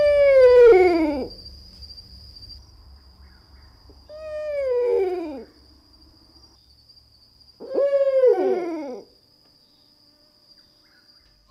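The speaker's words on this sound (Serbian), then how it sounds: "Kad bi se čuo zvuk sove od kojih bi vam se ledila krv u" An owl hoots three times at night, each call a loud, wavering, falling hoot about four seconds apart, while a faint, steady insect trill runs underneath.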